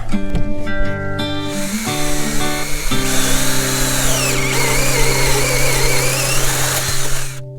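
A power drill whirs loudly and steadily, its pitch shifting as it bites into material, running continuously up close.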